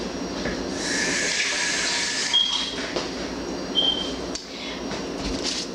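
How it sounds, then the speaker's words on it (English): Tap water runs steadily over a spoon being rinsed mid-way through cooking a chicken stir fry, a close, continuous rushing hiss lasting several seconds with slight shifts as the spoon moves under the stream. "So let me rinse the spoon."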